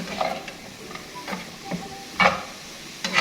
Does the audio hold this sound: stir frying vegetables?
yes